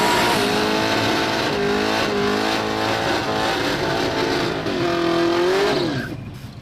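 Drag race cars, a Capri against a four-eye Mustang, roar loudly at high revs at a no-prep race. Engine pitch climbs and dips through the run before the noise cuts away at the end.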